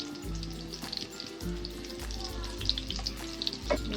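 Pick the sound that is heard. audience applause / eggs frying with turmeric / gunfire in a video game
eggs frying with turmeric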